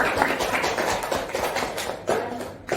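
Students in a classroom clap for a group: a continuous, fairly close patter of many hands with uneven taps and rustle, lasting the whole stretch without letting up.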